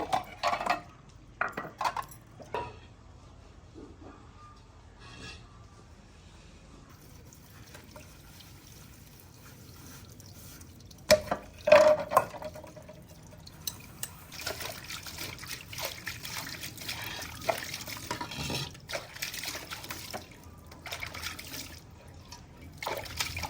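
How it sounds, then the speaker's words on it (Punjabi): Dishes washed with water in a village home: a soft trickle of running water with scattered clinks of utensils and cutlery, a busier burst of clattering and splashing midway, close and quiet, no talk. "ਇੱਧਰ ਨਾ ਬਰਤਨ ਧੋ ਲਾਂ"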